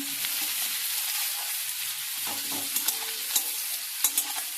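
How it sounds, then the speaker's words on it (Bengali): Onions fry in a pan while a spatula stirs and breaks them apart, producing steady close sizzling with scraping taps and small clacks, with no one speaking. "এবার পেঁয়াজটাকে একটু নাড়াচাড়া করে দেবো"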